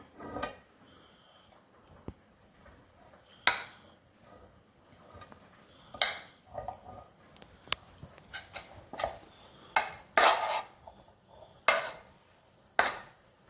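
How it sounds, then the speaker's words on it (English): Baking pans being pulled out and handled in a home kitchen while making cornbread dressing, a series of sharp metallic clanks and clatters at irregular intervals, fairly close, with quiet gaps between. "I've got some more pans I'll get out."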